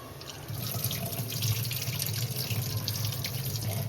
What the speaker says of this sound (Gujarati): તો આપણે દાળને 2-3 પાણીએ ધોઈ